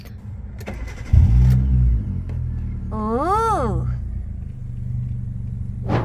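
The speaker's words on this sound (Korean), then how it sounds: "시동 한번 걸어보겠습니다" A 2008 Kia New Morning small car engine cranks and catches, settling into a rumbling idle with a quick rev midway; a voice briefly murmurs.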